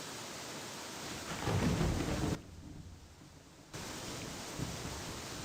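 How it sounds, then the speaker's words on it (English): Storm weather in the survival game Escape the Pacific, with steady rain hiss and low rumbling thunder that swells loud, drops away briefly, then returns as a constant wash. "Hopefully some of the storm will pass and I'll get warm again."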